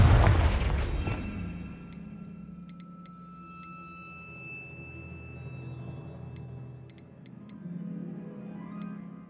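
A Confringo fire spell bursts in the video game Hogwarts Legacy, opening with a loud boom and blast that decays into a low rumble, with glassy chimes and faint magical tones over quieter game ambience.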